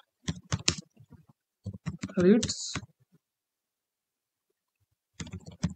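Quick bursts of keystrokes clatter on a computer keyboard, separated by silent pauses. Someone speaks briefly between the typing.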